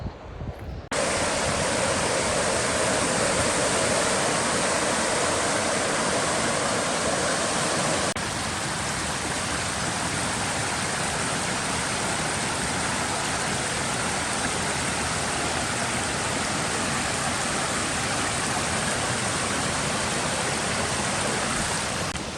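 Steady rushing of flowing water, a close and continuous creek babble filling the whole clip with no voices.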